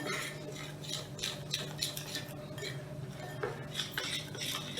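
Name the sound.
whisking dahi phulki batter with water in a bowl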